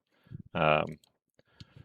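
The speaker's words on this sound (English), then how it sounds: "So right click and select" A computer mouse is right-clicked while a drawing is being set up in software, giving a short crisp click close to the microphone between bits of a person talking.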